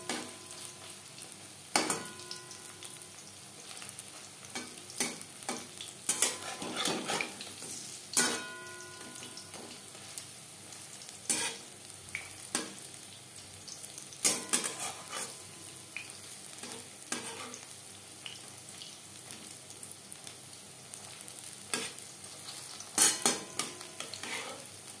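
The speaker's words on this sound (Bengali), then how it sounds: "পাকোড়া ভাজতে ভাজতে" Besan pakoras for kadhi pakora fry in hot oil with a steady, close sizzle, while a spatula stirs and turns them, adding sharp intermittent clinks over 25 seconds.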